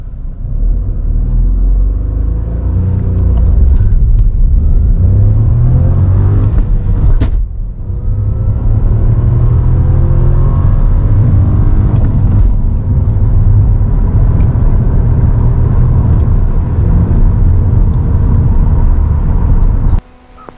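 A Skoda Scala 1.0 TSI accelerates hard from a standstill toward 100 km/h, its small engine droning loud and steady with a brief dip at a gear change midway, running continuously close up with no voices.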